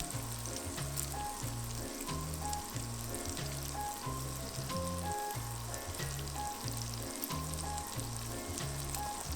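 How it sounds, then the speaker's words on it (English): Chorizo frying in a pan with oil, giving a steady close sizzle with crackling pops. Lower thumps and clatter from the kitchen sound in a regular pattern beneath it. "the chorizo is frying up nicely"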